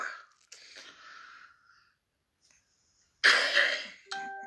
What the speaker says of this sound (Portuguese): Estou com uma tossita.